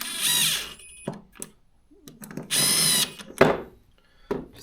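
Cordless impact driver snugging down screws with washers on a Stihl MS200T chainsaw during repair, giving several short, loud bursts of whirring and hammering separated by brief pauses.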